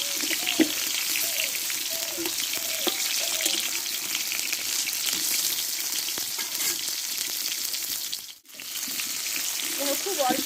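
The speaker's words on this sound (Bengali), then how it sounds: "অল্প আছে পটলটা একটু ভালো করে কষে নিবে ধীরে ধীরে" Pointed gourd sautés slowly in a pan, producing a steady, fairly loud frying sizzle with intermittent stirring scrapes and a brief pause near the end, no talking.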